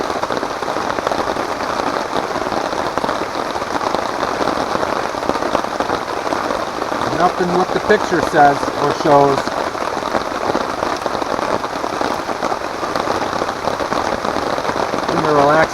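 Steady rain patters on a taut tent tarp overhead at a lakeshore campsite, a dense continuous drumming with a few faint voices murmuring underneath.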